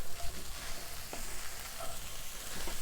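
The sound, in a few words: stirring beans into browned meat in pan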